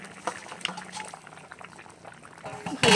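Curry bubbling in a pan on the stove as fried pointed gourd goes in, a soft burble under a voice, ending in a sudden louder splash and hiss.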